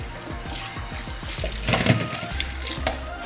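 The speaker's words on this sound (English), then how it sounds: "Just passing the cold water over it now." Cold tap water poured over drained, cooked ackee in a kitchen, a steady splashing rush with a brief louder gush midway, close and alone without speech.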